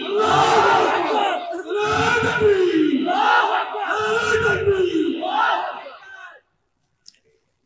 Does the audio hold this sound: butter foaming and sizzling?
no